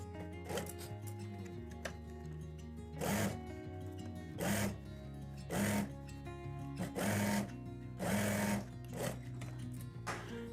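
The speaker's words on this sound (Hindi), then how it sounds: "अब आपने इसके इलास्टिक के ऊपर सिलाई लगा लेनी है।" Sewing machine stitching over the elastic waistband of trousers, whirring in several loud bursts of a few seconds each with quieter gaps between them, close and with no talk.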